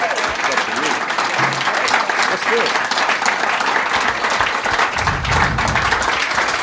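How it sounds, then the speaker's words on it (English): Concert audience at a jazz vocal performance applauding continuously, a dense, even roar of many hands clapping throughout, with scattered voices and cheers mixed in. "you might need to applaud a little bit more if you want her to do another one for you"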